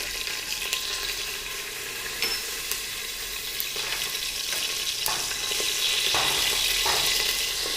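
Curry leaves and broken chilies frying in hot oil, giving a steady close crackling sizzle with scattered sharper pops that builds slightly toward the end.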